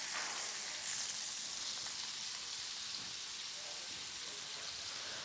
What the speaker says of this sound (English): I got a sear on one side. I'm going to flip this over.